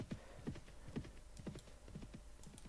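Horse hooves clip-clop in a steady galloping rhythm while riding in the medieval combat game Mount & Blade: Warband, a quiet, regular, even pattern of dull thuds, heard alone.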